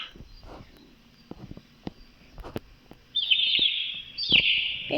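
Little bird chirping in a video game, a series of short tweets and bright bursts over a quiet background, growing louder and fuller in the last two seconds.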